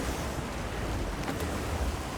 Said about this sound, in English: I can still hear the water splashing